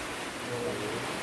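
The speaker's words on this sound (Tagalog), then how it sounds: "Nabutan kami ng ulan." Rain falling steadily outdoors as a dense, even hiss, brief and fairly loud with no clear talking over it.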